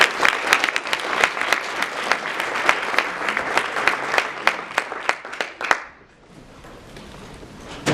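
Audience applause welcoming a speaker at an academic talk, a burst of steady clapping from a modest crowd lasting several seconds before dying away into quiet room noise.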